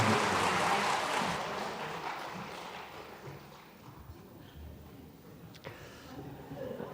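Applause from a church congregation at a Sunday worship service, a broad wash of clapping that starts fairly loud and gradually thins and fades over several seconds, with a few scattered thumps near the end.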